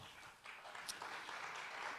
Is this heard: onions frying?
no